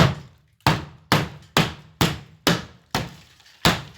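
Knocks on drywall near the top of a wall, seven sharp, evenly spaced raps that each fade quickly, close and fairly loud, with no talking.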